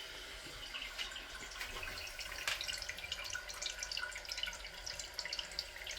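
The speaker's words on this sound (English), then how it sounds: "Here we go. Turning it on a little bit." A faucet opened a little runs water into a reverse osmosis/deionization filter system, making a faint, steady trickle and hiss with small splashes, close by and with no voices.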